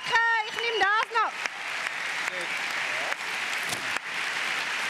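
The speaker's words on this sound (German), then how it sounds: "Mach noch mal einen herzlichen Applaus, das hat sie verdient." Audience applause fills a live show hall in the Kursaal, steady clapping continuing after a host's brief speech at the start.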